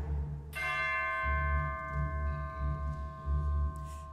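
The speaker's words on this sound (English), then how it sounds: "Then one day, the doorbell rang." A doorbell chimes once with a clear, bright metallic tone. It rings out suddenly and sustains steadily for several seconds over a low background hum.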